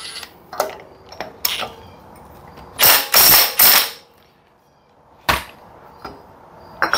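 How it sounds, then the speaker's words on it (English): An impact gun works on a chrome socket on a 1970s Massey Ferguson 253 tractor, firing three loud rattling bursts in quick succession among quieter clicks and mechanical knocks nearby. "we'll see if I can blow this chrome socket up here with my impact gun here"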